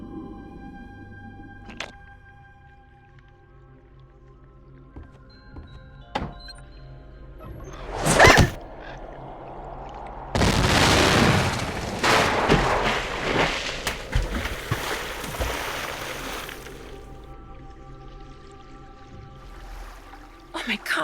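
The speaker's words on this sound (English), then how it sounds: "whoever threw that ice ball at me must have set off an explosion that shattered the ice" In the Nancy Drew game The White Wolf of Icicle Creek, an ice ball strikes and sets off an explosion that shatters the ice: a sharp crack, then a loud sustained burst of breaking, crumbling ice over several seconds among scattered game sounds.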